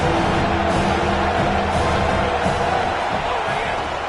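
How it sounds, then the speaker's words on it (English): A dense, loud roar from a college football stadium crowd (Georgia vs Alabama) on a third down holds steady throughout, with someone talking over it. "Decibels rising as the crowd gets behind this defense on third down."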